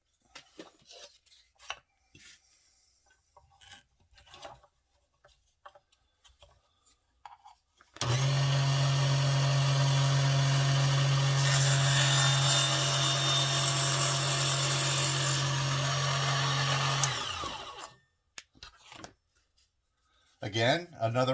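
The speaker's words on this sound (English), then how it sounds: "Let's try a cross cut." A Huanyu mini table saw with a carbide-tipped blade crosscuts wood, its loud steady whine running about ten seconds after quieter shop sounds, then spinning down.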